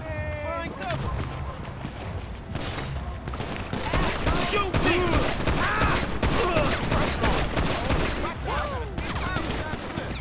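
Rapid bursts of gunfire crackle and pop in dense volleys amid Grand Theft Auto V game sound effects, continuous and loud across the whole stretch.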